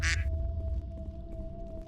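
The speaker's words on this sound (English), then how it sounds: "Why the quack?" A single loud duck quack sounds at the start in the game Mass Effect, brief and close, followed by a quiet background hum and faint game ambience.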